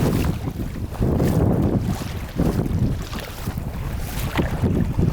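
Strong wind of roughly 15 to 20-plus knots roars across the open water along the Kandalaksha coast of the White Sea, a steady, loud buffeting with gusty surges and waves slapping close by, heard from a kayak with no voices.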